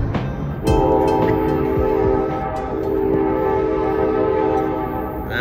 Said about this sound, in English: Here comes the CSX.